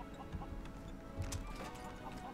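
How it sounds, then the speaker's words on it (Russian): Chickens clucking in the LEGO Worlds video game, a few short, soft clucks over a steady background of game ambience with no talking. "О, смотрите, там курочки."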